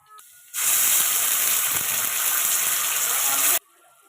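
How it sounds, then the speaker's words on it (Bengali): Chopped onions hit hot oil tempered with nigella seeds and fry with a loud, steady sizzle and hiss that starts abruptly and cuts off after about three seconds. "কালো জিরে ফোড়ন দিয়ে কুচি করা পেঁয়াজগুলো ওর মধ্যে দিয়ে দেবো।"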